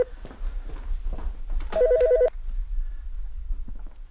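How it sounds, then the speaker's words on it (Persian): A telephone rings in short repeated bursts for about half a second in a domestic comedy-drama scene, loud and close, with room noise and low murmur around it. "زنگ تلفن رو نمیشنم."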